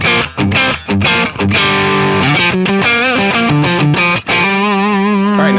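Electric guitar run through a Donner mini distortion pedal with gain and tone fully up, loud fuzzy chords and sustained notes with brief gaps between strums, played alone.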